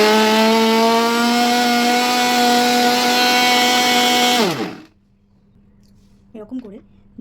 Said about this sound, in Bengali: এবার এটাকে মিক্সার গ্রাইন্ডারে ব্লেন্ড করে নেবো